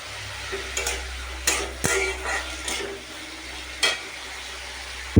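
Bitter gourd with chilli fries in a pan under a steady sizzle, punctuated by several clinks and scrapes of a spatula stirring, with a low hum beneath.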